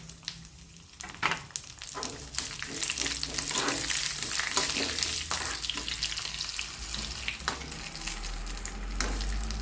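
Red chilies frying in a pan, a steady loud sizzle with scattered crackles and occasional stirring scrapes, no voices.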